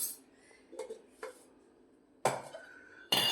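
Metal idli plates clatter and clink as they are handled and oiled, a few sharp metallic knocks and scrapes separated by quiet gaps, close and fairly soft.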